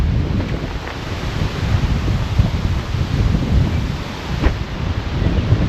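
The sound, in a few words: wind picking up before a storm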